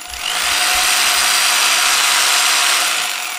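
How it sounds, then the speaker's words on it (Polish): A power drill whirs at high speed in one loud, steady burst that spins up quickly and holds for about three seconds before easing off, close up with no voices. "Wiesz co to jest? To jest wiertarka."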